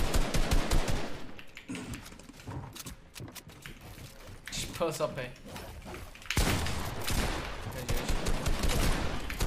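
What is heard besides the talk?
gunfire in the video game Fortnite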